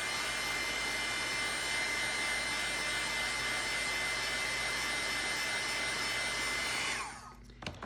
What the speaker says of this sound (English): It's just a heat gun, and it'll be noisy, and just dry it.